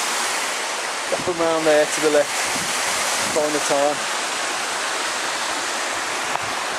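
A waterfall in hilly country roars as a steady, loud wash throughout, with someone talking briefly over it.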